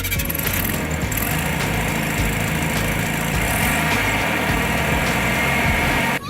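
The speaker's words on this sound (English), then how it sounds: "Can we hear this bad bug? Absolutely. Let's fire it up" A customized Volkswagen Beetle at the 2012 Bug A Rama car show idles with a steady, close, throbbing engine note that stays even throughout before cutting off abruptly at the end.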